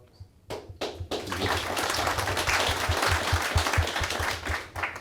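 A community meeting audience gives a steady round of applause, many hands clapping moderately loud for several seconds after a brief quiet start, with no talk over it.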